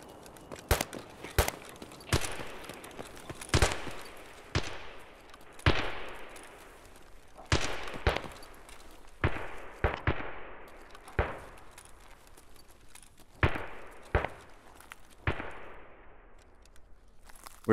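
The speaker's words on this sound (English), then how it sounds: "A lot of gunfire." Sharp gunshots in Escape From Tarkov crack out one by one at irregular intervals, each with a short echoing tail, some in quick pairs, against a quiet background.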